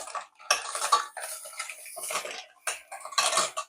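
A metal spoon stirring clam soup in a cooking pot, with repeated scraping and clinking strokes in an uneven rhythm, close and fairly loud, with no voices.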